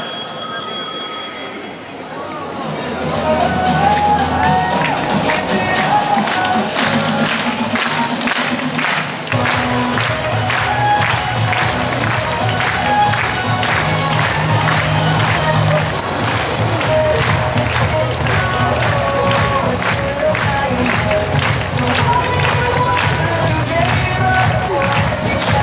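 Crowd at a relay race cheering on a runner, loud continuous cheering and noise with an announcer talking over it throughout.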